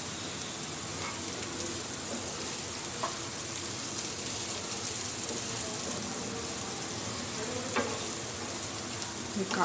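Boiled potatoes sizzle in hot oil with chili powder, a steady, quiet frying crackle with occasional faint pops, continuous and close.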